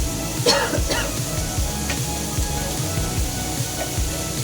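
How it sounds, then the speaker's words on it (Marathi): Onions and tomatoes frying together in a pan, heard as a continuous close sizzle with a few spoon scrapes. "फक्त आपल्याला फ्राय करून घ्यायचे कांदे आणि टमाटर"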